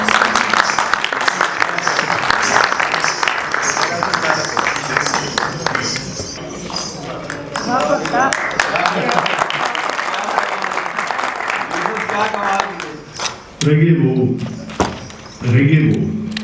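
An audience claps warmly to welcome Sufi speaker Yousaf Punjabi onto the stage: dense, sustained applause that gradually thins, with a few later bursts as sung singing voices begin over it.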